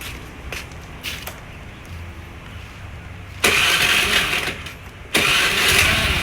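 A motorcycle engine is hand-started after the key is switched on, testing a 5 A battery after two years of use: quiet clicks first, then the engine catches and runs loudly, cuts briefly and restarts, close by with no talk.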